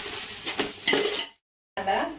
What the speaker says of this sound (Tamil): இப்போ இதை ஒரு வாட்டி நல்லா கிண்டி விட்டுருங்க.